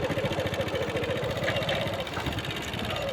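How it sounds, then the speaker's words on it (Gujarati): A motorcycle engine runs on a muddy, rain-soaked village road, giving a steady, close, mid-pitched throb with rapid regular pulsing. "બાઇક લઈને જવું પડે"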